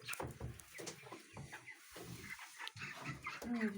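Broiler chickens about 24 days old eating at feeders, soft clucks and murmuring calls from several birds nearby, fairly quiet with a brief higher chirp near the end.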